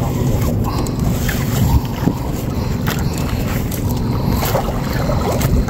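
Fishing boat running across the water during a blue crab outing, its low engine drone steady and close throughout, with wind buffeting and faint voices in the background.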